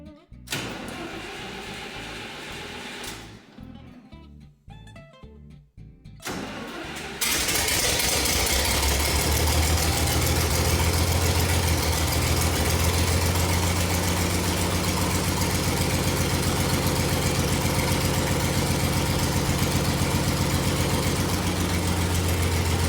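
Farmall 706 gas tractor engine cranking with a starter, sputtering, then catching and settling into a steady, loud, rumbling idle that runs on without a break.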